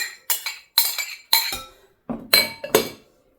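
Eggs and onions being stirred into macaroni salad in a bowl, a series of about seven sharp utensil clinks and scrapes against the dish in uneven bursts, close and alone.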